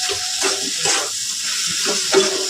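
Fried potatoes and spices sizzle in hot oil for a pabda fish and cauliflower curry, a steady hiss broken by stirring scrapes at a close, even level, with no talk.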